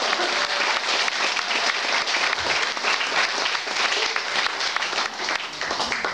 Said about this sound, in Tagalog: Yung iba na pilitan lang pumalakpak